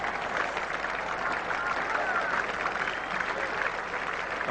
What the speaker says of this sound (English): Applause right around the ground now for the 300 coming up.